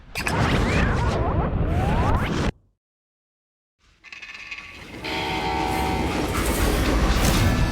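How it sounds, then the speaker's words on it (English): A freight train in the video game Call of Juarez: Gunslinger rumbles and clatters loudly, drops to a brief dead silence, then returns with rolling wheel noise and a sustained horn-like tone. "It's a train."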